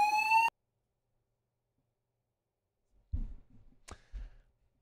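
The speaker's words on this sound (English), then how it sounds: "An alarm sounded" A sharp electronic alarm with stacked steady tones blares loudly for about half a second during a sports talk show discussion, then cuts off to silence before faint thuds and shuffling noises.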